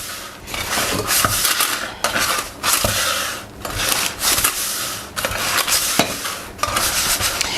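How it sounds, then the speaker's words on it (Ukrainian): A cake ring holding sponge batter shaken and turned on a surface, producing repeated bursts of rough rubbing and rattling scrapes separated by short pauses, close up with no speech. "можна його ось так потрусити і навіть декілька разів прокрутити форму"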